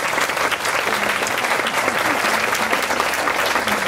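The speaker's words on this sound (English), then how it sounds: "Tom, could we give you a round of applause?" A hall audience gives Tom Layton a round of applause, dense continuous clapping from many people that sounds fairly loud and close and holds steady throughout.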